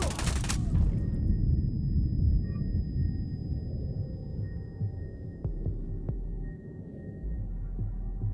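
Heavy gunfire in a tactical shooter game, a loud dense burst at the start that gives way to a low rumbling din with scattered sharp shots and ringing tones.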